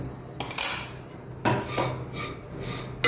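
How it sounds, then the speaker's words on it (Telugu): Spoon scraping and clinking against a metal bowl while sugar powder and almond-cashew nut powder are stirred into sweet semiya, a few sharp metallic scrapes with quieter rubbing between, close up. "చక్కగా ఇలా కలిపేసేయండి బాగా కలిసేటట్టుగా"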